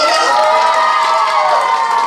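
A crowd at a dance contest claps and cheers for a competing pair, a continuous mix of applause and raised voices with children shouting among them.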